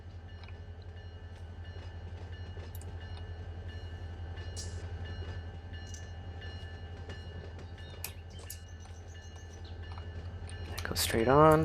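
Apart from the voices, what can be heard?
train engine running in the video game Run 8 Train Simulator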